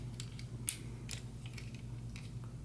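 Faint, close clicks and creaks from the ratchet leg joints of a Hasbro Masterpiece MP-05 Sunstorm Transformers figure being moved, a handful of small plastic ticks over a steady low hum.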